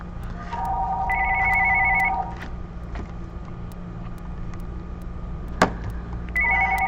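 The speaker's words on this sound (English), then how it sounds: "so I don't need to answer the phone." A telephone rings in a home craft room, two electronic trill bursts separated by a pause, the second starting at the end, with a sharp click between them.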